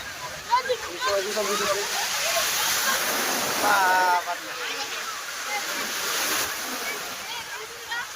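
Big sea waves roll and break at Marina Beach in Chennai, a loud, continuous wash of surf with swells rising and falling, while people talk over it.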